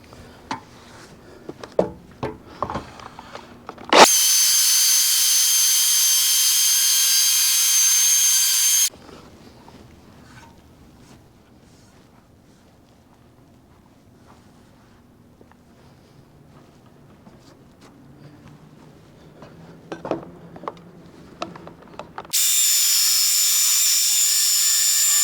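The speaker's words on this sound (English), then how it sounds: "I mean, it's a chainsaw." A chainsaw roars at high pitch in two loud bursts as it cuts, separated by a quieter stretch of low rumbling and faint handling noise.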